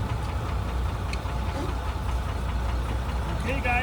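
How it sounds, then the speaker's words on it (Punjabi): A train pulled by three locomotives sits idling, giving a steady, fairly close low engine rumble that never lets up, with a few faint higher sounds near the end. "ਆ ਖੜੀ ਆ ਇਹਨਾਂ ਦੀ ਰੇਲ ਗੱਡੀ ਤਿੰਨ ਇੰਜਨ ਨੇ"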